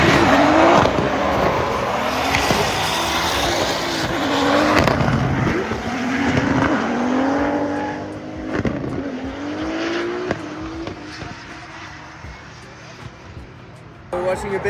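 Race cars on competition practice runs at a Reisbrennen track lined with a wall roar past in surges, engine pitch rising and falling with some tire squeal, while people talk close by throughout.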